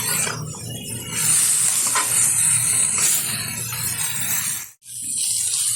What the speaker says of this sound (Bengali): খুব ভালোভাবে পুঁই শাকটা মিশিয়ে নিয়েছি তেলের সাথে।